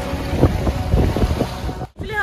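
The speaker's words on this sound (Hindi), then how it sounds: "बहुत तेज हवा चल रही है" Strong wind blowing at a lake: loud gusty buffeting against the microphone along with the slap of water, with a brief sharp dropout near the end.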